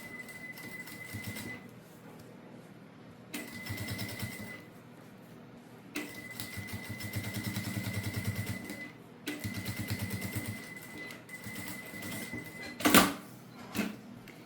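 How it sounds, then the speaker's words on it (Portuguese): Domestic sewing machine running a seam along fabric edge, stitching in several bursts of steady whirring with pauses between, followed by a brief clunk near the end, no talking. "Eu faço essa costurinha com menos de um pé de máquina."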